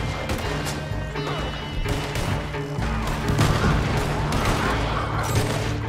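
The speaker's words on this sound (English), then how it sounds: "Some explosions are coming up right now." Explosions and gunfire in Red Dead Online form a dense, loud barrage of crashes and blasts that swell and overlap through the whole stretch, with voices underneath.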